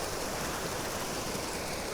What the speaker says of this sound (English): That's actually snow melt coming down from the top of the mountain and filling up Gore Creek right now